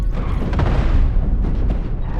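Cannon fire in the space-combat game Cosmoteer, a loud booming blast with a heavy low rumble, followed by further thuds and a continuous rumbling mechanical din.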